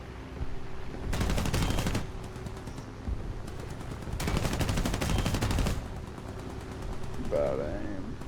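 Aircraft machine guns fire in a flight combat video game, two long bursts of rapid rattling shots over a steady engine drone, followed by a shorter stretch of fire near the end.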